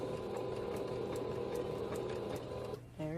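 A sewing machine back stitches a quilt block, a steady, fast rhythmic clatter heard close up, stopping near the end as the run finishes.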